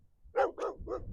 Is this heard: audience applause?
no